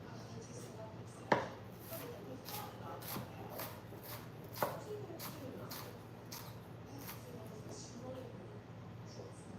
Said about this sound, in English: trying to chop these onions super thin.